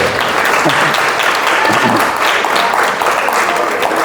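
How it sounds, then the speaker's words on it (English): A teenage audience at a youth program gives loud, continuous applause, a thick rapid patter of clapping throughout, with a faint voice briefly showing beneath it. "Give her one applause."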